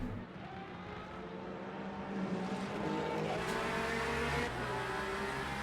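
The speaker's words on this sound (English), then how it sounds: "Overtaking the GT3." A race car overtaking a GT3 car in Le Mans Ultimate at the Portimão Algarve circuit, with a steady loud engine drone and tonal whine that swell slightly as the cars draw level, with no talk.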